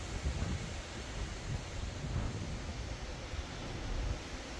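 Strong hurricane wind roars steadily outdoors at night, a broad continuous rushing and buffeting with light rain blowing around and no voices.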